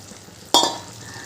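Fried tangra fish added to a hot sizzling pan, a single sudden loud burst of sizzling with a clink that quickly settles into a softer hiss.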